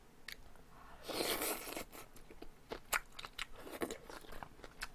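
Close, crisp crunching and moist chewing as someone eats bossam (boiled pork) wrapped with pickled myeongi greens. The bites come in a steady, irregular rhythm with no talking.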